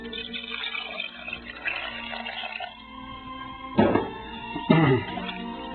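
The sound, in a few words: water poured into pot of lentils and ditalini pasta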